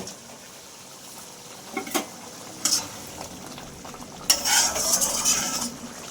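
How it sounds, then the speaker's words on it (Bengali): Potatoes for a paneer curry with cashew paste go into a pot of boiling water, with a few metal clinks and scrapes, then a louder splash and bubbling as they drop in. "ফুটে গেছে, এইবারে আমি আলুগুলো দিয়ে দেব।"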